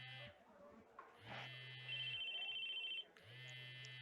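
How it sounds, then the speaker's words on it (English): A phone ringtone in the visual novel game ChäoS;HEAd chirps in repeated electronic bursts with a steady beeping tone, quiet and mixed with game music and voices. "the ringtone was ringing at the same time"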